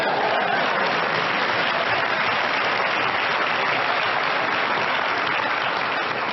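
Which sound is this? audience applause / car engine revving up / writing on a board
audience applause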